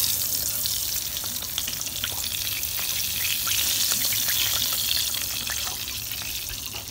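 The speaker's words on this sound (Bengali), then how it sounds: "এখন আমি পটল ভাজা নামিয়ে নেব" Pointed gourd (potol) frying in oil in a pan, a steady bright sizzle with faint crackles and occasional stirring scrapes throughout, no voices.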